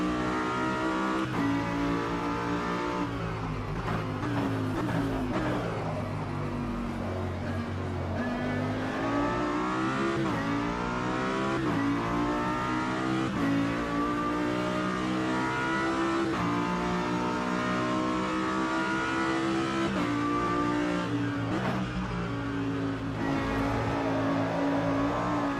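A race car engine on a lap in the sim racing game Automobilista 2, loud and continuous, rising and falling in pitch through repeated gear shifts and throttle changes, with no talk over it.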